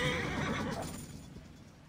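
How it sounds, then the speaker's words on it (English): A horse neighing in Assassin's Creed Origins, a loud whinny at the start that trails off over about two seconds, with no voices. "I have horses for us nearby."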